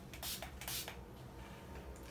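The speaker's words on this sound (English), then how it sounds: "I'm going to put some moisturizing spray on." Moisturizing spray hissing from a pump bottle in a few short bursts, a quick double spritz at the start, close and clear, with no talking.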